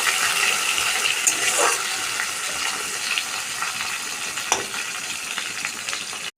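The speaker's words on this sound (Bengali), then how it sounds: "লাল লাল করে ভেজে নেব" Bay leaf and soaked chana dal fry in oil in a pan, a steady close sizzle with occasional stirring clatters throughout, ending abruptly.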